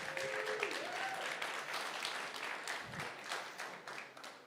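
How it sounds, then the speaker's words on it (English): A quick round of audience applause for Coca-Cola Southwest Beverages as title sponsor at a community event, steady clapping from a crowd at moderate distance, somewhat faint, with brief voices near the start. "A quick round of applause for them."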